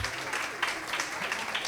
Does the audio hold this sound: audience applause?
yes